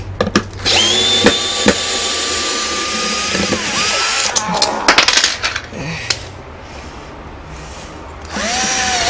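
A cordless screwdriver bought from AliExpress backs a wood screw out, giving loud close motor whines that start and stop in several bursts with sharp clicks and rattles between them. Near the end the motor starts once more.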